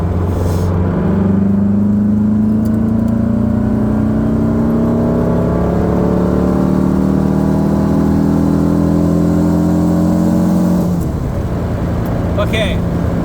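Car engine revving hard through rising pitch sweeps, then a gear shift drop near the end, loud and close from inside the vehicle with a person talking over it.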